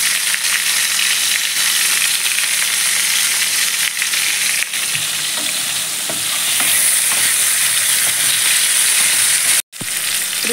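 Curry leaves and green chillies fry in a pan for bottle gourd and green chilli chutney, with a loud, continuous close-up sizzle and occasional stirring scrapes.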